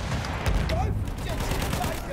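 Enemy artillery barrage in the Battlefield 1 multiplayer Rush mode: dense, continuous rumbling blasts and crackling gunfire merge into a loud, steady wall of battle noise with talk mixed in.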